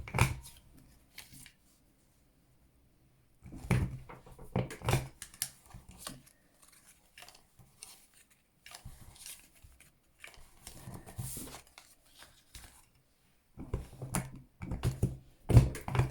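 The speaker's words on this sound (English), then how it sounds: "I'm also going to round all of the corners on those small rectangles that I've just cut out." A hand corner rounder punches through the corners of small cut paper rectangles for a stamped card project, giving faint intermittent clicks and crunches in scattered clusters separated by quiet pauses, close up.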